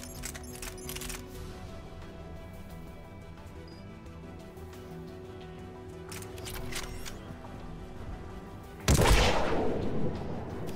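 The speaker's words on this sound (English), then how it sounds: "Oh wait, that's just my shotgun." A shotgun fires in the video game Mass Effect 3, with one sudden loud blast near the end that decays briefly, following quieter clicks and faint background game sounds.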